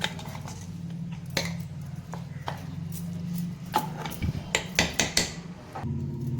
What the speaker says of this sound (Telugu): ఇప్పుడు వెల్లుల్లిపాయలు దీంట్లో కలిపేసుకుందాం.